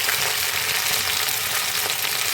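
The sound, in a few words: cauliflower added to hot oil, frying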